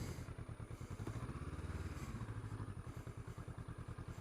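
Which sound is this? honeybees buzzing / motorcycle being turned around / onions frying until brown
motorcycle being turned around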